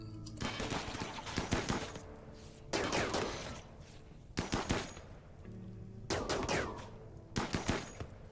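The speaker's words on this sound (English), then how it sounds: "Oh, you guys were shooting this guy to death?" Gunfire from colonists in the video game RimWorld, loud repeated bursts of rapid shots separated by short pauses, resembling machine-gun volleys with a steady background hum between them.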